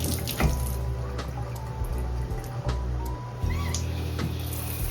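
A hotel bathroom tap runs with a steady, even rush of water, close and continuous, with a few faint knocks and clinks over the flow.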